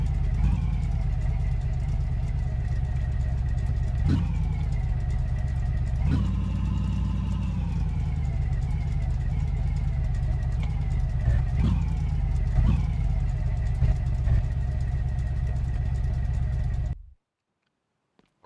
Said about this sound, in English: we don't have any exhausts yet. So this thing is going to be a little bit loud.